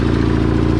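A Cub Cadet 782 garden tractor engine with some blow-by running close by, a loud, steady low rumble with a fast even pulse, heard alone for under a second.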